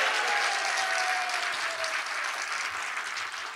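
Sustained, dense applause from a large crowd at a conservative Christian church rally, a steady roar of clapping that fills the whole stretch without any talking.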